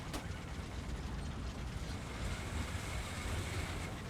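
A tank in War Thunder creeps along at reduced speed with a damaged transmission, giving a steady, low rumbling drone of engine and tracks with a windy hiss, continuous and fairly close, with no voices.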